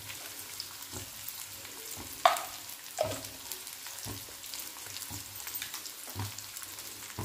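Onion, crushed garlic and a pinch of asafoetida sautéing in hot oil in a pan for a carrot and pea vegetable dish: a steady close sizzle with a few sharp pops and spatula scrapes and stirring knocks, and no talking.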